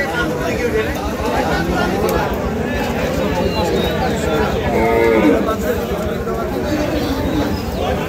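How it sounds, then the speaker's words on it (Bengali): Cattle low now and then amid a busy crowd of talking voices at a Dhaka Qurbani bull market in light drizzle, steady market bustle throughout with one louder call near the middle. "এগুলো এক একটা গরু"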